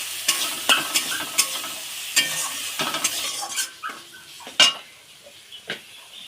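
A spice paste with a little water stir-fried in a pan for a potato and pumpkin curry, with sharp, irregular spatula scrapes and clinks, close and loud, over a light sizzle.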